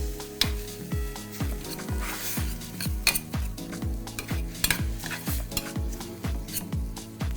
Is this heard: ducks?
no